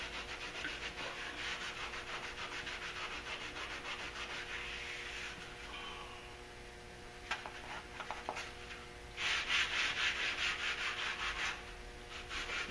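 Steady rubbing of wet sanding a truck's rockers with a sanding sponge, continuous back-and-forth scrubbing that pauses briefly midway, then resumes louder and close by.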